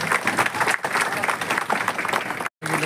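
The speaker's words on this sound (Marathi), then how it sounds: "सर्वांनी टाळ्या वाजवायच्या आहेत" A crowd at an outdoor welcome ceremony for road works claps in a dense, continuous patter, with a brief dropout near the end and a voice mixed in.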